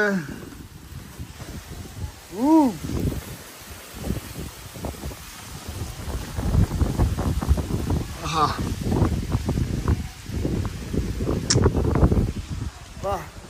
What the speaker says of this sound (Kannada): ಗಾಳಿ ನೋಡಿ ಗೈಸ್ ಹೆಂಗ್ ಬರ್ತಾ ಇದೆ